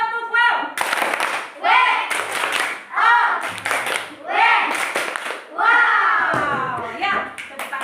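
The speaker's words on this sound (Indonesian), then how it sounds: "tepuk tangan dulu untuk Ndo yang bertanya dan caranya yang sudah menjawab" A class of schoolchildren claps their hands in several short bursts of brisk, uneven applause, separated by pauses in which children's voices and a teacher's talk are heard, all fairly close in a classroom.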